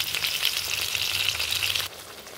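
Mustard paste and green chili paste frying in a pan, a steady bright sizzle that runs loud and continuous, then drops sharply quieter near the end.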